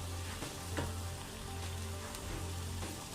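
Masala frying in lamb fat for a quick lamb curry, a steady close sizzle with faint crackles and a low hum running underneath throughout.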